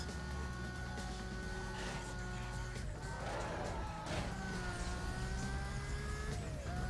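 Lamborghini in Need for Speed Most Wanted surging under nitrous, a sustained engine whine climbing in pitch with gear shifts over a steady road roar, loud and close.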